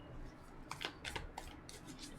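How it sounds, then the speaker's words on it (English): Tarot cards being shuffled by hand in a series of quick papery riffles and flicks, soft and close, with no talking. "It's definitely an odd way I have to shuffle the circle cards here"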